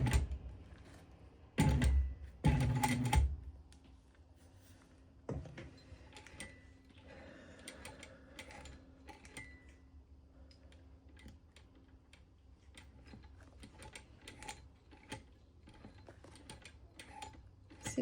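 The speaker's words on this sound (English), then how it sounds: "top stitching along that zipper with the seam allowance" A sewing machine topstitches along a zipper with the seam allowance turned toward the exterior, giving a low mechanical whirring with ticking needle strokes. Several louder bursts come early, then a softer steady run with small clicks, and no voices.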